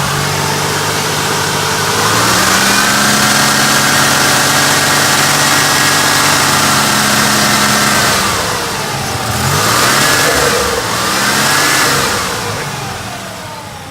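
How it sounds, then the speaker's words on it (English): A 1987 Buick Grand National engine runs loudly close by, idling steadily and then revving up and down a couple of times before settling, with no knocking. "So the engine sounds pretty solid."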